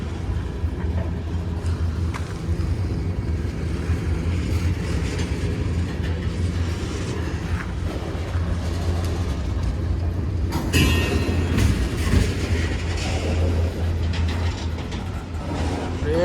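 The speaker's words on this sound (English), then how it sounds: "There slowly comes in train," A train slowly rolling in with a low steady engine drone and faint clickety-clack of wheels, growing a little louder toward the end, heard alone without talk.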